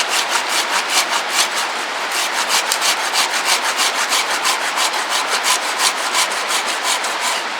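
Hand saw cutting partway through a wooden branch outdoors, a steady run of rhythmic rasping back-and-forth strokes, close and fairly loud, with no voices.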